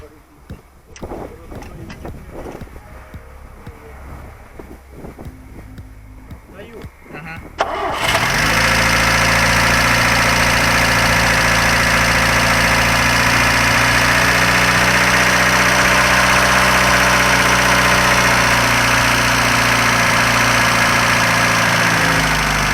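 A Geely car engine cranks and catches at about eight seconds, then settles into a steady, loud idle, with talk over the quieter stretch before it starts.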